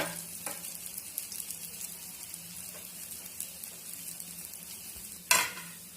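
Aloo tikki potato patties shallow-frying in a pan, a steady close sizzle running throughout, with a sharp clatter near the end as a patty is turned.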